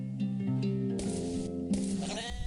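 Stuttery sheep bleating in the game Moirai, a few choppy, wavering bleats in close succession, close and fairly clear.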